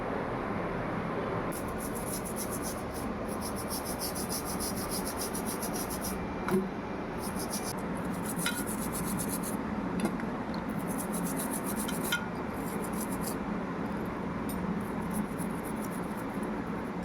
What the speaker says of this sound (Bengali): এরপর আবার আমি ব্রাশে করে ঘষবো, তার ফলে আরও পরিষ্কার হয়ে যাবে